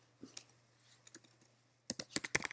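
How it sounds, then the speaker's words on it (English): Keys clack on a computer keyboard, a few faint scattered taps giving way to a brisk, louder burst of rapid typing close to the microphone. "I'm gonna type"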